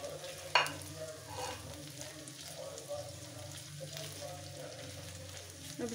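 Pieces of boiled chicken frying in a pan for a chicken karela dish, with a soft, steady sizzle and stirring scrapes throughout, plus one brief sharp clatter near the start; no talking.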